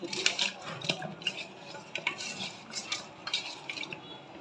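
Hilsa fish pieces mixed by hand with spices, garlic paste and oil in a bowl, giving soft, irregular clinks and wet stirring knocks, quiet and close with no talking.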